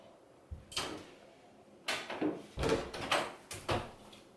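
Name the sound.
door opening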